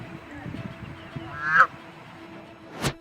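A white goose fighting a duck on a lake gives two short loud honks, one near the middle and one at the end, over a background of splashing and bird calls.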